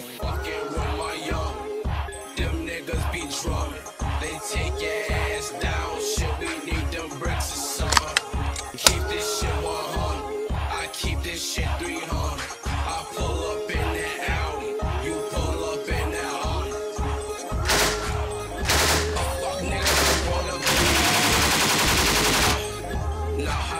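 Automatic gunfire from a gun bought through Craigslist in Las Vegas rings out as a long, loud, rapid string of evenly spaced shots, followed by a shorter, denser burst and louder noisy rattle near the end.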